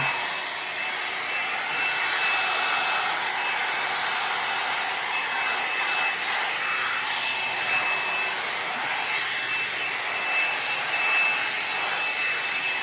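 A L'ange LeVolume hot-air dryer brush with a ceramic barrel blows continuously, a loud, steady airy whoosh with a thin high whine, close up and uninterrupted, with no voices.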